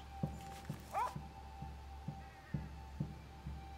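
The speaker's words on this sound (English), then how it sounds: "Oh, that was a dog." A dog in the video game Unravel gives a short series of quiet, evenly spaced yelps and whimpers over a low steady background hum, with one higher whine in the middle.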